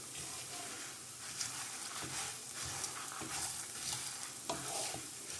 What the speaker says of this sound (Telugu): మీడియం ఫ్లేమ్లో గోల్డెన్ బ్రౌన్ కలర్ వచ్చే వరకు వీటిలన్నిటినీ కూడా ఫ్రై చేసుకోవాలి